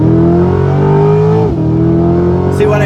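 A 2020 Chevrolet C8 Corvette Z51 with a Tremec dual-clutch transmission accelerates hard from inside the cabin, a loud steady engine drone rising in pitch, dropping sharply at a quick gear shift midway, then climbing again.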